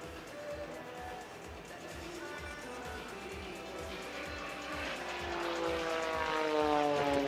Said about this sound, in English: Turning the airplane in a 360-degree circle to the right while rolling the airplane to the left.